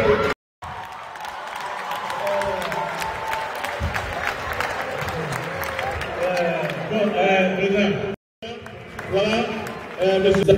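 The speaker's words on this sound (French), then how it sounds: "on l'applaudit très très fort" Audience applause at a live stage comedy show, with clapping and cheering from the crowd over a voice speaking, broken by two brief dropouts.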